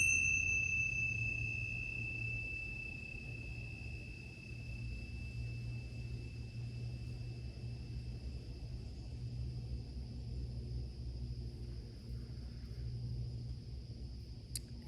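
Meditation bells rung to open a session, sustained metallic ringing tones that fade slowly over a low steady rumble, quiet and unaccompanied by talk.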